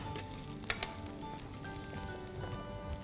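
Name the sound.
roasting ground moong dal with spices in a pan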